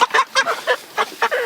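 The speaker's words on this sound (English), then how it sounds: "the chickens are getting stressed out with somebody in here." Pastured poultry clucking and squawking in agitated, repeated bursts at close range while being loaded from a chicken tractor, about six calls in quick succession with no talk.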